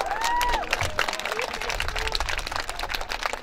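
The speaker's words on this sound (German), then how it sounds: "Oh, ja, Applaus!" Crowd applause at an outdoor knights' tournament on the Hansawiese in Stralsund: scattered clapping and some cheering from a spectating audience, moderately distant, with a few voices and a bright tonal sound near the start.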